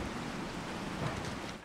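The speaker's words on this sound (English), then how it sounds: "So, we're in the church. It's raining." Dense, steady rain pours down outside a church in Resident Evil 4, a continuous broadband hiss with a soft low rumble beneath it, uninterrupted and without speech.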